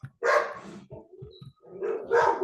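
A dog nearby gives a couple of loud, hoarse barks with softer whining or grumbling noises between them. It is heard indoors with no talking.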